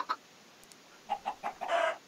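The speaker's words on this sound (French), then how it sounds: "J'ai 5 poules et 2 petits." Video game chickens cluck in short separate bursts, faint and sparse at first, then a denser run of clucks toward the end, with no talking.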